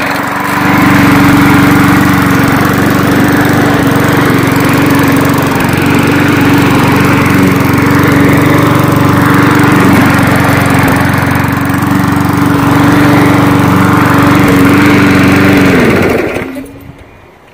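A Toro push lawn mower engine runs at a steady loud drone with a constant low hum close by for most of the stretch, then cuts off abruptly near the end; no talking is heard.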